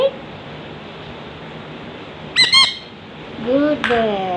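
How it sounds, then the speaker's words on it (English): A kaka parrot squawks in two bursts, a short harsh call near the middle followed by a longer, louder run of squawks with tonal overtones, against a steady hiss of background noise. "Good bird. Kaka?"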